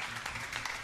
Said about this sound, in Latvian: Samanta, Tīna, aplausi.